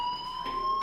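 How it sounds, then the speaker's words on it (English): A fire alarm in the video game Life is Strange sounds as a loud, steady electronic ring with a sustained tone held throughout, alone and without talk. "do you hear that fire alarm? That means you should be outside."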